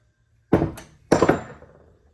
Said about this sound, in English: definitely just go with a big hammer with a lot of momentum